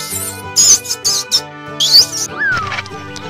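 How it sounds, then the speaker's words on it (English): A rat squeaks in a series of short, sharp, high-pitched bursts with brief pauses between them, close and clear, ending in a falling squeal, with no voices. "Rat."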